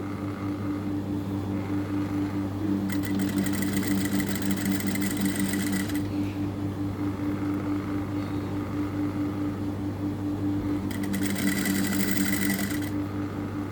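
A sewing machine stitches beside piping on fabric during a chain-attaching job. Under a steady low motor hum come two bursts of rapid mechanical stitching, close and loud, with no talk.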